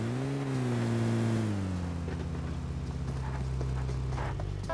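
Video game vehicle engine droning steadily as a car drives, with a falling pitch that settles into a continuous hum, loud and close with no talking.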